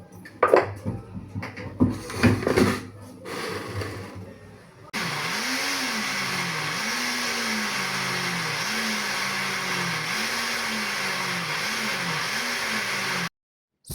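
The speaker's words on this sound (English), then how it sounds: "I've washed ginger, then I will now blend this to smooth" Washed ginger blended smooth in a blender, first some clattering and handling of dishes, then a loud, steady motor whir that wavers in pitch as the contents churn for about eight seconds before it cuts off abruptly.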